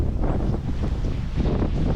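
Strong headwind buffets the deck of the three-masted sailing ship Belem off Ostend at Beaufort force 6, under sail-less diesel power: a steady, loud roar of wind across the microphone with rumbling sea and engine noise beneath, no voices.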